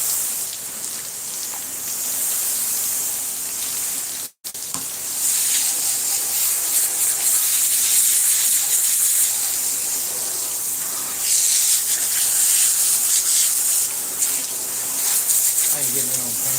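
A water sprayer blasts fat out of freshly cleaned catfish with a steady, loud hissing spray that runs almost continuously, broken by one brief drop-out, while people talk quietly nearby.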